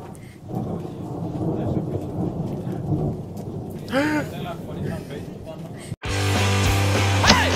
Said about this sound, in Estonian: Ja väljas on välk on lahe.